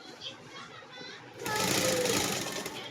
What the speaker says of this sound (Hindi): अब देखो इसको मैं सिलाई लगा देंगे